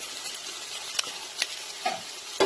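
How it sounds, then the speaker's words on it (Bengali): Bitter gourd and potatoes frying in a pan make a soft, even sizzle close by, broken by a few light stirring scrapes and a clink at the end, with no voices. "তাই উচ্ছে আলু ভাজা করছি"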